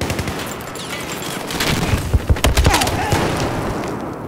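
Gunfire in Battlefield 4 close-quarters play on Operation Locker, a dense burst of rapid shots with booming impacts peaking mid-clip, loud and near, over steady game ambience.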